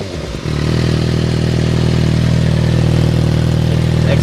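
Yamaha FZ6R motorcycle engine and exhaust kicks up after a brief lull and holds a loud, steady rev around a constant pitch, close by and alone without talk.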